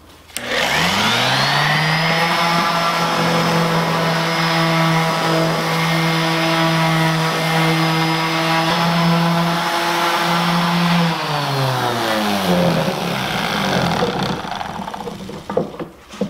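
An electric disc sander runs with a black zirconium sanding disc, spinning up quickly into a loud, steady whine held for about ten seconds before winding down, close by with light scraping underneath.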